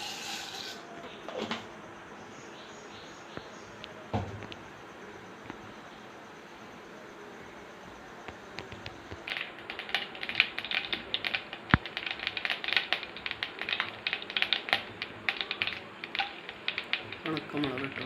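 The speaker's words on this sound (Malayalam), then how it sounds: "വെളിച്ചെണ്ണ ചൂടായി കഴിഞ്ഞാൽ നമുക്ക് കടുക് ഇട്ട് കൊടുക്കാം കേട്ടോ." Mustard seeds crackle and pop in hot coconut oil in a home kitchen pan while a chenapoovu thoran is cooked, rapid dense sizzling pops building loudly from partway through after a quieter stretch.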